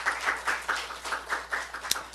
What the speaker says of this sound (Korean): 할렐루야, 우리 하나님께 박수 올려드립니다.